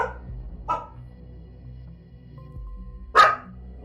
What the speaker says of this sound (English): As will be my dog very shortly if he doesn't shut up